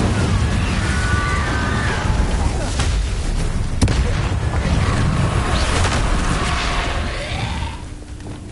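Fire spell cast in a video game, a loud sustained roaring blast with rumbling low end and crackling bursts that fades out near the end, under game effects.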